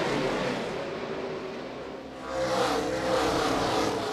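NASCAR stock cars race at New Hampshire, engines roaring loudly past in a sustained wash of revving that swells after a brief dip, with no talk over it.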